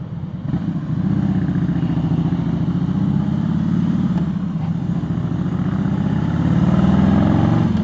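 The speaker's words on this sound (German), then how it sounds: "hinter mir sind auch schon ein paar Harleys unterwegs" Harley-Davidson motorcycles ride nearby on the road to a motorcycle event, a steady low engine rumble that holds throughout and swells slightly toward the end.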